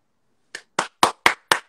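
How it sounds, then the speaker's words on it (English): Five crisp hand claps in an apartment, spaced evenly about a quarter second apart, close and fairly loud against near silence. "I'm not trying to clap loud in my apartment"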